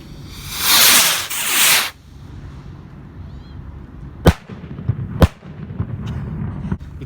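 Alien versus Predator consumer fireworks going off outdoors: a loud rushing, crackling burst lasting about a second and a half, then after a pause several sharp, separate bangs, some echoing.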